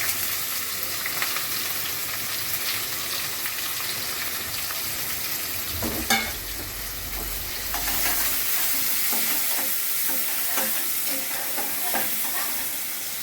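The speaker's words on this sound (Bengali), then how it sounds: "এখন আমি চুলাটা একটু কমিয়ে পেঁয়াজ কুচি দিয়ে দিব।" Chopped onions hit a pan and fry over lowered heat, giving a dense, steady sizzle with stirring clatter and a thump partway through. No voices.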